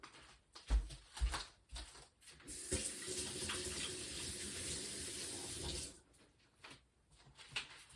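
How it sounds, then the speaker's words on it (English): Tap water runs into a kitchen sink as hands are washed after preparing a pork roast, a steady rushing stream framed by splashes and handling sounds at the start and end. "And let me wash these hands off."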